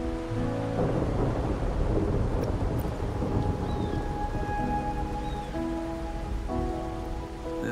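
Steady heavy rain falls with low rolling thunder in the Wuthering Waves video game, a dense continuous wash under faint sustained musical tones.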